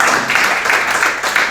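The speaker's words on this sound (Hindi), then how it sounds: "आप सब अपने लिए एक बार तालियां बजा दें इतनी" An audience at a poetry recital in Jammu claps loudly and steadily, a thick wash of many hands filling the whole moment with no voice over it.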